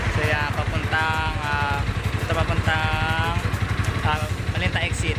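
A Motorstar Z200S motorcycle is ridden hard on an urban expressway extension, its engine droning loud and steady at high revs throughout, with a voice partly audible over it.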